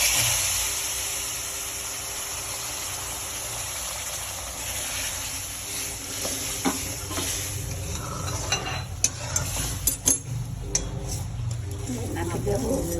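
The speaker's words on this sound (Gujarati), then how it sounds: "હવે દૂધ નાખી દઈએ." Hot ghee and roasted semolina for sheera prasad sizzle steadily as milk is poured in, with stirring scrapes and a few sharp clinks of a spoon against the pan building toward the end.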